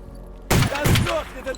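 A shotgun firing slugs in S.T.A.L.K.E.R., heard as a sudden loud blast after a quiet moment, followed by a second boom and a ringing tail, close and punchy.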